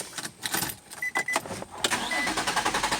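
A 2004 Infiniti G35 carrying a camshaft position sensor fault code P0340 cranks with a rapid, uneven whirring pulse, then catches and settles into a steady idle, heard close up and loud with no talking.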